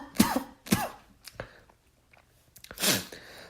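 A man clears his throat and coughs several times up close, harsh rough bursts spaced across a few seconds with a short quiet gap before a final, longer cough.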